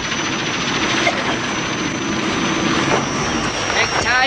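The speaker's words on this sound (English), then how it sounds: "The royal family use helicopters to visit the more isolated parts of Thailand." A steady, loud roar of a helicopter engine and rotors, a dense continuous whir with faint fluttering, heard close and without pause.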